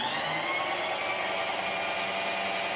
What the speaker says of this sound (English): And spot drill the other side.